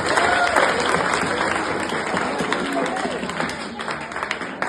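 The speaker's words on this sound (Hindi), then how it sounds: "चाहूंगा एक बार जोरदार तालियां" Students and guests at a school farewell ceremony give loud, sustained applause for several seconds, a dense crowd of claps that gradually thins out.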